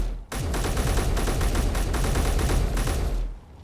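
Sustained rapid rifle gunfire from Space Engineers, a dense continuous burst lasting about three seconds, loud and close, with no talking over it.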